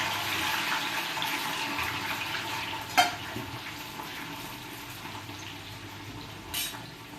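Okra (bhindi) frying in oil for a masala bhindi dish, a steady broadband sizzle throughout with a sharp clatter near three seconds and a softer knock toward the end, no talking.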